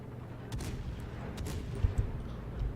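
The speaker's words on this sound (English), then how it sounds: "we have got the enemy battleships shooting at us right now" Distant booming gunfire from enemy battleships in the World of Warships naval game, a few muffled low thuds and blasts scattered over a rumbling background.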